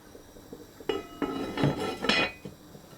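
A lid set onto a pot of beef stew with root vegetables that has just come to the boil gives a few close metallic clinks and clatters, spaced over a couple of seconds.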